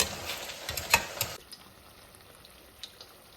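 Meat frying in a pan with onion, ginger and garlic gives a close, crackling sizzle with stirring scrapes that quiets to a faint simmer after about a second and a half.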